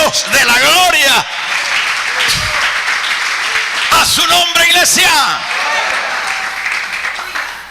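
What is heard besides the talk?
church congregation clapping as an offering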